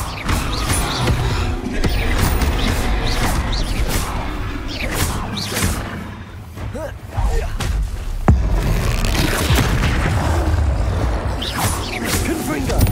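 Repulso spell blasts in Hogwarts Legacy combat: a dense, busy wash of magical whooshes and booming thuds, with sharper bursts near the middle and later, mixed in with other spell effects and a voice.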